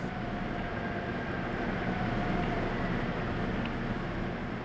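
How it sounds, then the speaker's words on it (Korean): A subway train pulls into a station, with a steady broadband rumble and a faint high whine held evenly throughout, loud and close. "전동차가 들어오자 바로 몸을 싣는 가족들"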